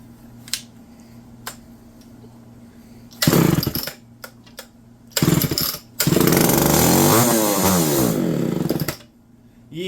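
Homelite Super XL chainsaw with old, gummed-up fuel sputtering as it tries to run: a few short loud bursts, then a longer rough run of several seconds that dies away.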